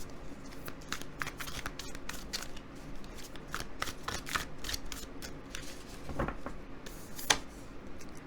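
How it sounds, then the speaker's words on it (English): Tarot cards are shuffled by hand, a close, soft, continuous run of riffling and flicking snaps over several seconds, with a sharper slap near the end. "Let's shuffle and draw a few more tarot cards for you"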